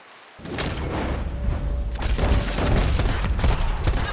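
Rapid bursts of gunfire from the video game Red Dead Online, loud and dense with overlapping shots and booms that keep up steadily for several seconds, with no talk over them.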